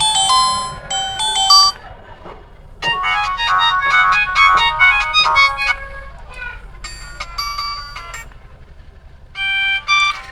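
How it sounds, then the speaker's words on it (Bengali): A Symphony L140 keypad phone plays a loud, bright electronic ringtone melody in several short bursts separated by brief pauses, heard close. "দেখা যাক যে রিংটোনের সাউন্ড কতটা আছে"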